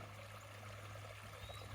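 Creek water running beside a homestead wood lot, a soft continuous trickle and burble, faint and steady with a low background hum.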